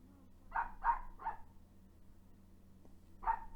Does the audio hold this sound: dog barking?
yes